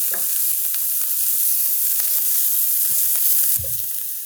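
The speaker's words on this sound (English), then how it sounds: "So I'm going to add it to the pan now, and we're just going to saute this for another minute, maybe 2" Chopped garlic and onions sauteing in a pan for lamb meatballs with Mediterranean spices, a steady close sizzle with faint scraping and a soft clunk near the end, no talking.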